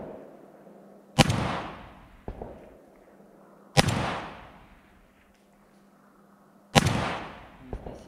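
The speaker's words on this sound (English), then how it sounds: "will now make a series of three shots" Three loud, sharp gunshots spaced a few seconds apart while testing a Vzor red dot sight, each a close crack with a short decaying tail and a quiet gap before the next.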